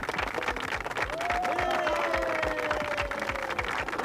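Audience applause in a circus arena scene from a Hindi TV series, steady clapping from a crowd with a music line running over it for about four seconds.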